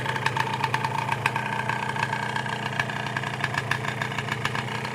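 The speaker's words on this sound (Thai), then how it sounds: "ถ้าสตาร์ทนะเดิมครับ ทีเดียวติดกับชึ่งเลย ทีเดียวติดเครื่องฟิตสตาร์ติดง่าย" A 1990s Yamaha JR 120 S motorcycle with a stock two-stroke engine idling steadily, a close, even putter with regular rapid pulses and no talk over it.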